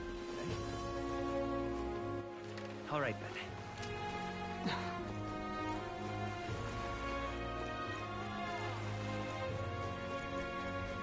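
Rain in the video game Metaphor ReFantazio: a steady, soft hiss of falling rain sits under loud game music while someone talks over it.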